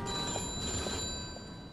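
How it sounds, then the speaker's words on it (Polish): A telephone rings in the Mafia II video game, a steady tonal ring heard close and clear over a low background rumble, with no talk. "No, już telefonik, już nas wzywają."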